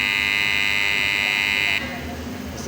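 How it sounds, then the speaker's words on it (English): A steady electronic buzzing timer beep from a 32-tray rotary oven holds for under two seconds, then cuts off, leaving faint background sounds. "if the timer goes off, it will give you a beep."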